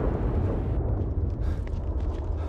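A sudden explosion in the survival horror game The Evil Within 2, a loud, sustained low rumble with crackling debris filling the whole moment, no voices over it.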